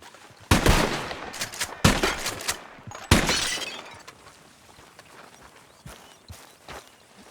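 Gunshots from the Red Dead Redemption 2 video game: three loud, sharp blasts in quick succession, each trailing off in a ringing decay, followed by scattered fainter shots and rustling movement.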